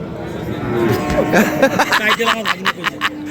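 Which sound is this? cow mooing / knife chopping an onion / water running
cow mooing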